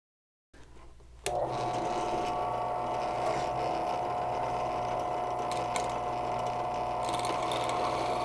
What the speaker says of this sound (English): we can screw this here.